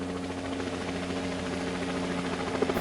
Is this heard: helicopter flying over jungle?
yes